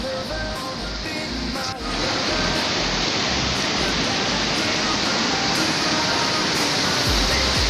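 Cachoeira da Torre waterfall near Cubatão, a loud steady rushing roar of falling water close by, continuous after a brief quieter moment at the start.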